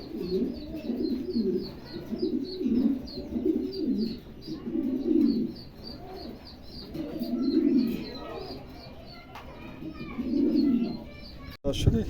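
Tiger pigeons at a pigeon sale exhibition give deep rolling coos in regular bursts, close and fairly loud, with faint chirps and background voices.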